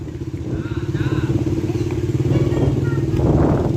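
Motorcycle engine hums steadily as the bike is ridden, rising slightly toward the end, with faint clatter and bumps; no clear talk over it.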